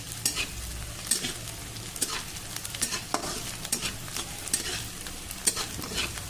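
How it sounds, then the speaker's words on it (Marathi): Onions fry with a little salt in a pan for kanda poha under a steady sizzle, while a spoon stirs with regular, close scraping clicks throughout. "आपला कांदा आता चांगला भाजत आलाय"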